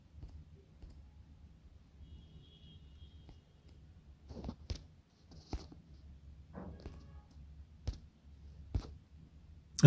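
A computer mouse clicks several times while someone closes an ad on a web page. The sharp, faint clicks come at irregular intervals over a low, quiet hum.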